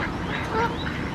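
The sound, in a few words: ducks quacking in a park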